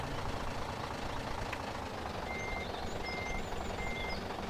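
Repeated reversing beeps from a truck in the Farming Simulator 2013 video game, a steady series of evenly spaced electronic tones over a constant engine rumble.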